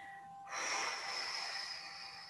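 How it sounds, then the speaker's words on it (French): A long, steady breath blown out through the mouth during a qigong exercise, starting suddenly after a short quiet moment and holding as an even, close airy rush to the end. "Soufflez bien."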